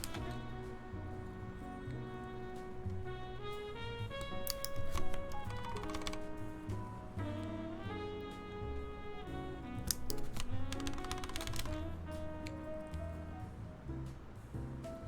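Clacky typing runs on a custom-built TC-V3 mechanical keyboard, with quick irregular keystrokes and bursts of rapid clicks. A tonal music bed plays beneath at moderate volume, and there is no speech.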